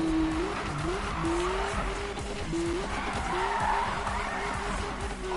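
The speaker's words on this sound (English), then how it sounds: "And another nice drift." A car drifting in Need for Speed, its engine droning steadily while the tires squeal in a long, wavering screech, loud and continuous throughout.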